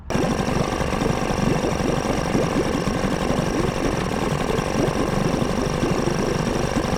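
An outboard boat engine running steadily at about 1500 RPM, close and loud, with a continuous rough mechanical drone and rapid knocking pulses throughout.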